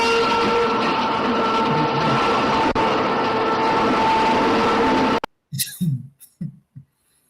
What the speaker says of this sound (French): Voilà le train.